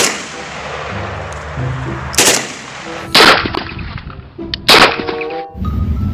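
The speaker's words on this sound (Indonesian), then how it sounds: "Wah, ada tembakan" Bursts of AK-47 automatic gunfire in a video game, four short loud volleys spaced a second or so apart over a steady game soundscape with faint ringing tones.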